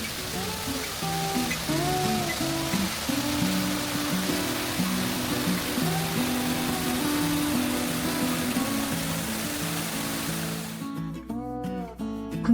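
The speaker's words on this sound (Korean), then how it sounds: "이 물줄기를 따라 내려가니 시원한 폭포와 만나네요" Steady, dense rush of a waterfall at the Gunpo azalea garden fills the scene without pause, with faint voices and a brief shift in tone near the end.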